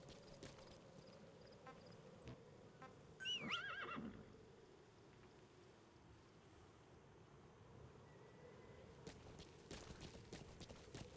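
A horse whinnies once, a short loud neigh rising briefly over a steady outdoor wind-and-water ambience in the video game Metal Gear Solid V: The Phantom Pain, with faint hoof clatter afterward.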